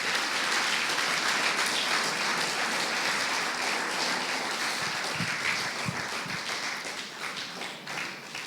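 Church congregation applauding during a sermon, a dense, continuous wash of clapping at moderate level that gradually thins and softens toward the end, with a few louder individual claps near the close.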